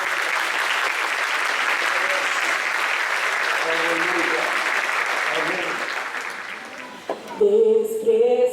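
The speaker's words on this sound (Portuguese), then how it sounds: "Uma salva de palmas" Church congregation at an Assembly of God service in Guarulhos breaks into sustained, dense applause that tapers off after several seconds, followed by a short burst of voices and music.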